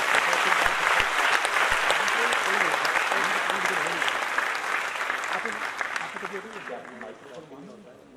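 Sustained applause from a large audience at an award ceremony honoring Javed Akhtar with the Hridaynath Mangeshkar Award, dense and loud throughout and tapering slightly toward the end, with some voices mixed in.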